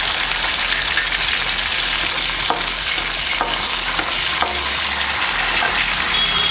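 Peanuts, curry leaves and green chillies fry in a hot pan with a loud, steady broadband sizzle and crackle, broken by occasional sharper pops, close up with no talking.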